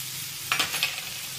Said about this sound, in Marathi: 2 मिनिटे टोमॅटो परतून झाल्यानंतर यामध्ये कोथिंबीर टाकूया